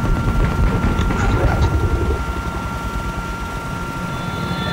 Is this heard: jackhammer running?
no